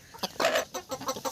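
A hen clucks in several short, close bursts while being pulled free of a net, with no talk over it.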